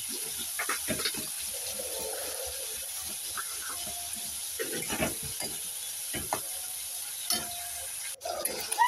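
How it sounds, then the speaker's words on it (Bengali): Vegetables being stirred with salt in a frying pan, a steady sizzle under repeated scraping strokes of a spoon against the pan, close and moderately loud, with a short clatter near the end. "ভালো করে নাড়িয়ে চাড়িয়ে নিতেছি।"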